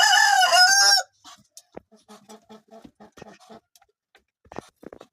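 Chickens in a coop: a loud rooster-like crow opens, followed by a series of close, rhythmic clucks and scattered pecking sounds.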